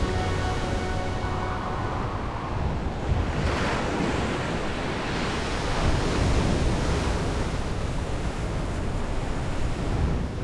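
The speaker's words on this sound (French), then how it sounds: "la colonne d'eau qui s'écoule se transforme en immense déferlement houleux" Huge ocean waves break on the Portuguese coast at Nazaré, a continuous heavy roar of surf with wind buffeting the microphone and a swelling crash partway through.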